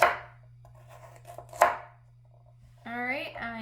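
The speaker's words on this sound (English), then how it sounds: "I am gonna cut up the carrots" Knife chopping carrots on a cutting board: two distinct sharp chops a moment apart, followed by a brief voice speaking near the end over a low steady hum.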